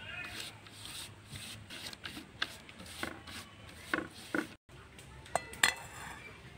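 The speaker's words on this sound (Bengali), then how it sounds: "এই ঘিটা আমি কলা পাতার উপরে আমি একটু হাত দিয়ে বুলিয়ে দেব" A hand rubs ghee over a banana leaf while making chana dal barfi, giving soft, intermittent scraping and smearing strokes, faint and close, with a brief gap midway.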